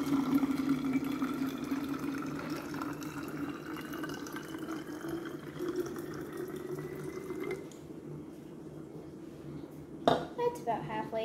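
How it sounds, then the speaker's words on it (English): Running water pours and splashes steadily into a bottle for several seconds, filling it halfway, then stops, followed by a few sharp clinks of the bottle being handled. "I'm going to unscrew this bottle, and I'm going to fill it with water halfway."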